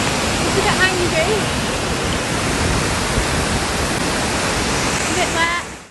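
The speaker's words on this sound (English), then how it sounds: "We made it to the waterfall." Waterfall in Wales rushing with a loud, steady broadband roar throughout, close by and unbroken, with faint voices barely surfacing before it cuts off.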